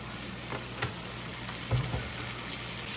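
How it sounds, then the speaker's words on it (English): Meat frying in olive oil in a pan, a soft steady sizzle with a few faint pops and stirring noises, no talking. "this time we'll put the meat and we add a little bit of olive oil"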